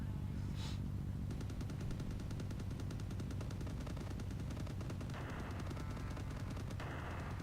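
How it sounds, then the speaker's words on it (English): Rapid, repeated gunfire from a slow, oppressive bullet-hell video game boss fight, a continuous machine-gun-like stream of shots layered over the game's dense background sound. "Okay, you can shoot the bullets."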